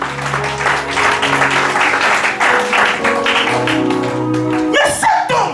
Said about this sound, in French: You clap your hand for Jesus.